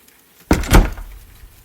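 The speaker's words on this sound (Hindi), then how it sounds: "मैं अंदर गया और दरवाज़ा बंद कर दिया।" A wooden door swings shut with a single close, solid thud followed by a short rattling settle in a quiet room.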